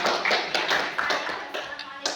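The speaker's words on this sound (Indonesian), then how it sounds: "Tepuk tangan untuk kelompok 3 dulu." A classroom of students applauding a student group, a short burst of close, brisk clapping from several people that gradually thins out.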